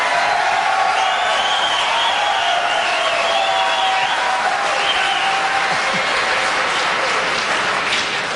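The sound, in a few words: debate audience applause and cheering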